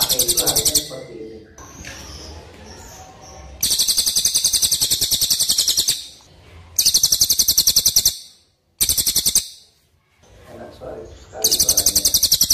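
Cililin bird song from a training recording, loud, rapid, high chirping trills delivered in bursts of several seconds, separated by abrupt pauses and quieter low sounds.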